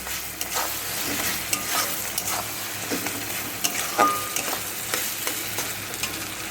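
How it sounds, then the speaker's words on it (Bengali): Ginger, garlic and green chili paste frying with onions for a mutton curry, giving a constant loud sizzle under scattered spatula scrapes and stirring clicks, close by with no voices. "পুরো পেস্টটাকে এর মধ্যে দিয়ে দিলাম দিয়ে ভালো করে আমি কষিয়ে নেব পেঁয়াজটার সাথে"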